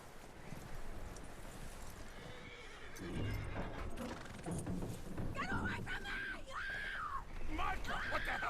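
A horse in Red Dead Redemption 2 neighs and whinnies several times, loud and close, over hoof clip-clops and thumps, while people talk in between.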